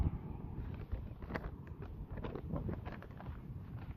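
Gusty outdoor wind buffets the microphone in a steady low rumble with scattered rustles, close and moderately loud, with no one speaking.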